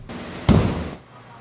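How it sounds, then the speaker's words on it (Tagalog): Explosion of an LPG tank during a warehouse fire, a single sharp boom heard at a distance over a steady background roar, with no talk. "Sa gitna ng pag-apula, dumagundong ang tatlong pagsabog."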